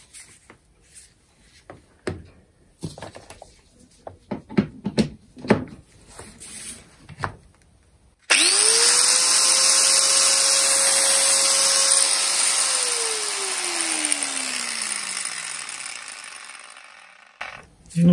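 An angle grinder with worn gears spins up after a stretch of clicks and handling, whining loudly and steadily for several seconds, then winds down in pitch as it coasts to a stop, with a rough gear rattle near the end.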